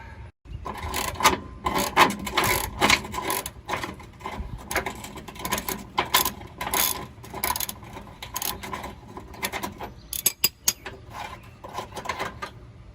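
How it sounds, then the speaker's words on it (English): A stuck bolt being worked loose while a hitch goes onto a 1998 Ford Ranger, heard up close as continuous rapid ratcheting clicks and metallic rattles, with irregular bursts and a few sharper knocks near the end. "I'm gonna get the other bolt out."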